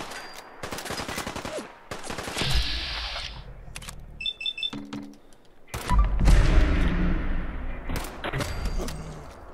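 Gunfire in Fallout 4 rings out in several rapid bursts and single cracks, loud and close, spread across the scene between mechanical clicks and impact thuds.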